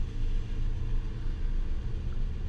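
A Jeep Grand Cherokee SRT8 engine runs at a steady idle, giving a deep, even low rumble that holds without revving, heard alone.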